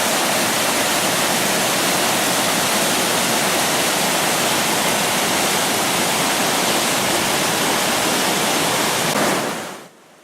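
The Río Infierno in Asturias rushes beneath a bridge with a steady, loud, broadband roar of flowing water that holds constant and then cuts off abruptly near the end.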